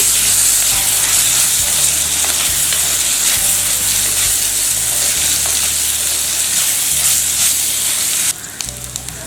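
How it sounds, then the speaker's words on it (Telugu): Ginger garlic paste fries in hot oil for spicy pepper prawns, a loud, steady sizzle with stirring scrapes throughout, close up, then cutting off abruptly near the end. "ఇప్పుడు కొంచెం అల్లం వెల్లుల్లి పేస్ట్ వేసుకొని పచ్చివాసన పోయే వరకు ఫ్రై చేయాలి."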